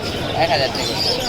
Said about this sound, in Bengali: মেহেদির কবুতরগুলো আগে দেখি